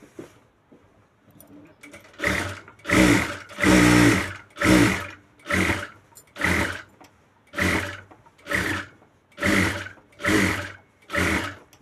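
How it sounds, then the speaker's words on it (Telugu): Sewing machine stitching around a blouse neckline, running in about ten short bursts of rapid mechanical whirring separated by brief pauses, loud and close. "ఇప్పుడు దీనిపై నుంచి ఒక స్టిచ్."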